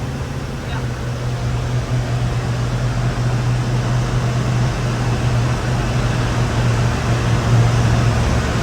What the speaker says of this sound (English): It's really hot here in Florida, so this air conditioning is nice.